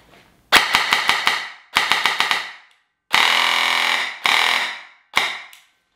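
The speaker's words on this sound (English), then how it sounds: "this is what the gun sounds with an ASG 30K motor" An airsoft gun with an ASG 30K motor fires in quick bursts, a snappy buzzing rattle of rapid shots in short strings and longer sustained runs, loud and close with brief pauses between.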